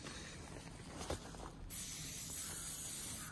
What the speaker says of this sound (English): Amber Seal chain spray.